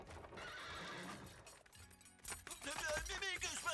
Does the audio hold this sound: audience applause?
no